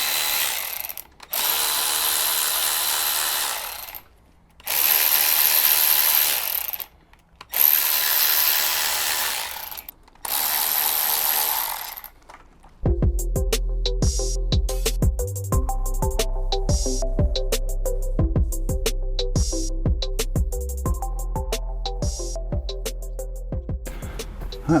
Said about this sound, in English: I'll get all the bolts undone first.